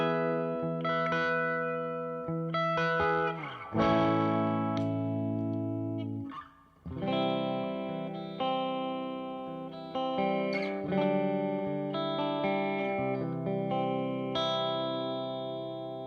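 A clean electric guitar runs through a Dream 65 pedal with a touch of spring reverb, playing sustained chords and single notes in several phrases with short pauses between them, dynamic and ringing, with no voices.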